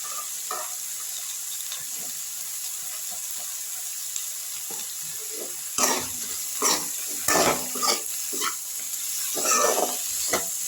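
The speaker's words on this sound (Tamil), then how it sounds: "அதையும் இதோடு சேர்த்து நல்லா வதக்கி விட்டுக்கலாம் அப்படி இதுலேயே கொஞ்சமாக பெருங்காயத்தூள் சேர்த்துக்கலாம்" Onion and tomato sautéing with asafoetida for sambar, a steady background sizzle that turns busier midway with a run of loud spoon scrapes and clatters against the pan, close by with no voices.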